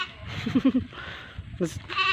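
A goat gives a short, wavering bleat close by, followed by a second brief cry, with people talking around it.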